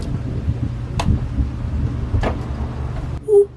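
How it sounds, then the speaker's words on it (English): Thunder rumbles low beneath steady rain on a stormy day, with two brief sharp cracks standing out, followed by a short faint tonal sound at the end; no one speaks. "you hear that thunder?"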